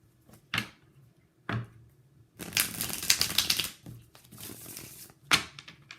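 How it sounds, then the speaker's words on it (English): Crisp riffling bursts of cards being shuffled, a few short flicks followed by a longer run of rapid snapping, close by with pauses between. "And shuffle one more time."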